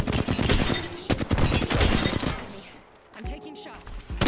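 Rapid bursts of video-game gunfire crackle through the first half, dense and loud over a busy game mix, then thin out before a short tonal cue and a few more shots.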